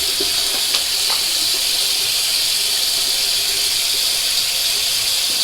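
Water runs steadily from a tap during washing up after a razor shave with a heavy Rockwell 6C safety razor, a constant broadband hiss that stays level and close throughout with no talking.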